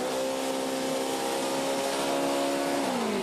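Jimmie Johnson's NASCAR race car, troubled by an unknown engine issue, revs with no load at a high, steady pitch, a buzzing harmonic drone that drops slightly near the end, with no voices.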